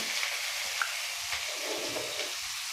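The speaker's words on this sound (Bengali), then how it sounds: "মশলাগুলো এবার আমি একটু ভালো করে কষিয়ে নেব" Spice paste of ginger, green chilli, coriander-cumin paste, turmeric and Kashmiri chilli powder frying in a pan while being stirred, giving a soft, steady sizzle with faint scraping throughout.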